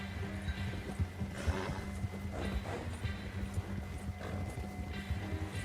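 A horse in the video game Red Dead Redemption 2 clip-clops along with rhythmic hoof beats, a snort and whinny breaking through over a low rumbling game soundscape, without speech.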